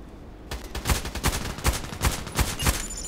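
An FN SCAR-L rifle fires in Contract Wars, about eight sharp, loud shots in quick, fairly even succession after a brief quiet start, each crack landing close and punchy.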